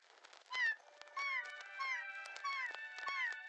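A cartoon cat in the Doraemon series gives a string of short, fairly quiet meows, about five or six rising and falling calls spaced evenly over a few seconds, with no voices.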